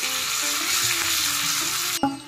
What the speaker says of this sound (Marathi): फोडणीत आता मिरची आणि कढीपत्ता घालायचा आहे